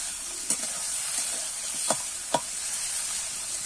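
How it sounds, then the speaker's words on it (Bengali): Turmeric and salt coated prawns frying in a pan, a steady soft sizzle and hiss with a few brief louder pops and stirring knocks throughout, no voices. "এবারে নুন হলুদ মাখানো চিংড়ি মাছটা ভেজে নেব।"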